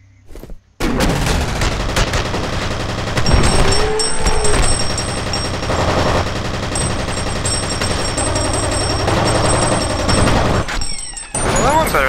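Dense, continuous rapid gunfire in the shooter game F.E.A.R., bursts of automatic fire running almost the whole time, loud and close, with a brief quiet gap near the start and a short pause near the end.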